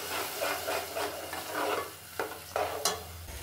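Tomato paste frying in a pan alongside garlic-ginger paste while cooking Peshawar-style siri paya, a steady close sizzle broken by a few sharp scrapes of a spoon against the metal.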